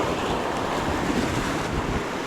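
Ocean waves wash against a cliffside fishing spot in a continuous loud roar of surf, mixed with wind buffeting the microphone and no speech.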